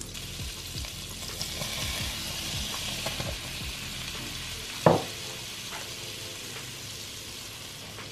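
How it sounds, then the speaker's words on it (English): Butter and flour sizzling in a pan for a roux, a soft continuous frying hiss with low bubbling and scattered stirring clicks, and one sharp metallic knock about midway. "So next I'm gonna drop the butter so we can go ahead and make our roux"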